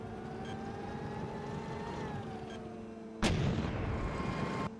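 M1 Abrams tank cannon firing in an Unreal Engine 4 game, a single sudden heavy boom over a steady droning engine hum, followed by a rumbling tail that cuts off abruptly.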